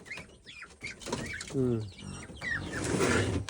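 Rhode Island Red chicks and hens cluck and cheep in a backyard coop on a rural farm, a mix of short calls close by, with someone talking over them.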